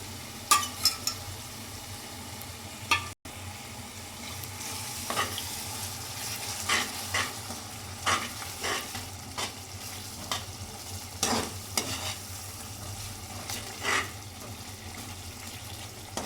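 Ingredients frying in a pan with curd added, a soft continuous sizzle under repeated stirring scrapes and clinks of a spoon, with a low steady background hum.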